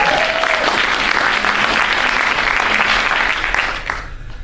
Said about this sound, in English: let's have another round of applause for Mark Cram